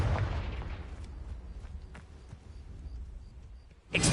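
A Confringo blasting spell in Hogwarts Legacy, opening as a deep rumbling blast that fades over several seconds and ends with a sudden sharp burst, with scattered faint clicks between.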